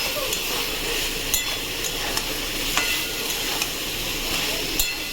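Soybean curry sautéing in oil with spices in a pan, giving a steady sizzle and hiss, with occasional clinks of a spoon stirring against the pan.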